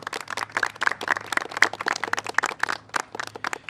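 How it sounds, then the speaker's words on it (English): An audience applauds a congressional delegation at a presidential address on the Hurricane Ida response, scattered distinct claps from a modest crowd, fairly close and uneven in rhythm. "Let's have the congressional delegation. A round of applause for them."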